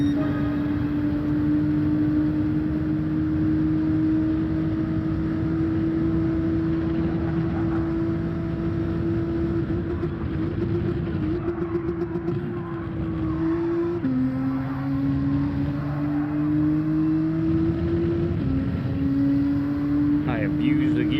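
A Gran Turismo 7 race car engine holds a steady, loud drone that climbs in pitch, then drops sharply at each upshift and climbs again, two or three shifts in a row, with a voice talking in the background.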